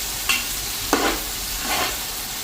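A utensil stirs food in a pan with a few brushing scrapes over a steady background sizzle, close and fairly loud, with no talking.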